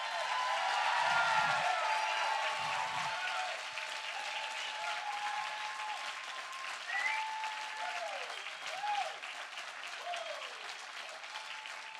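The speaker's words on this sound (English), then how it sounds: "can we give a round of applause for my mom who beat breast cancer this year?" An audience claps in a sustained round of applause for the speaker's mother, who beat breast cancer this year; the dense, even clapping fills the room and lasts throughout, with a few whoops and cheers rising above it.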